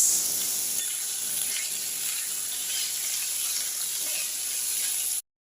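Cabbage cooking in a hot pan gives a steady, bright sizzle that runs without a break for about five seconds and then cuts off abruptly. It sounds close, with no voices over it.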